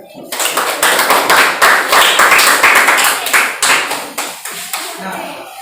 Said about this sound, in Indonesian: Bisa beri tepuk tangan lagi ya.